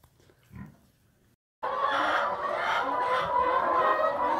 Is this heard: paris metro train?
no